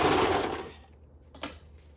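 A serger overlocks the edges of dance-set fabric with a loud, steady buzzing run that fades out as the material runs off the end, followed by a few faint clicks and handling noises nearby.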